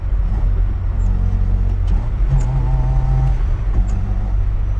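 Lada 2103 car driving, a steady loud engine rumble from inside the cabin with slight rises in pitch as it accelerates, continuous throughout with no talk.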